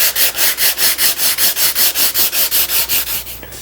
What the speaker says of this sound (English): scratch is gone and surface sanded at 320 grit